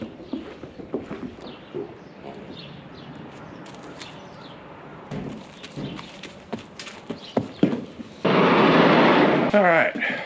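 Horses clop and shuffle on the ground while being led out through a gate, their uneven hoof steps mixed with handling noises, and a loud broadband rush of wind or movement takes over near the end.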